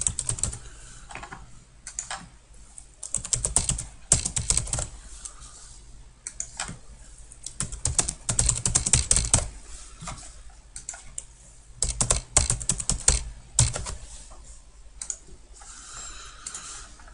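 Steady typing on a computer keyboard, close and fairly loud, with dense runs of key clicks broken by short pauses and no talking.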